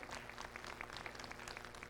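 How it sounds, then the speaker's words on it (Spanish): Applause from the audience at a weekly public assembly: a steady, moderately loud wash of many hands clapping, continuous through the whole span with no voices on top. "Hay que aplaudirlo, por supuesto"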